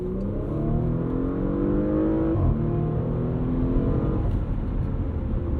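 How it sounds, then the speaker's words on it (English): A 2022 Porsche Macan S accelerates hard in automatic mode, its engine note climbing steadily through the gears with a brief shift dip midway, loud and close from inside the cabin. "Very snappy throttle response."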